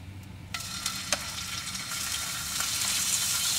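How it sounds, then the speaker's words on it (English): Plain pork belly sizzles in a hot pan on a camper van stove, a steady crackling fry that swells louder over a few seconds, with occasional sharp pops and spatters. "I'm cooking the plain pork belly first so it doesn't get tainted by the sauce from the other ones."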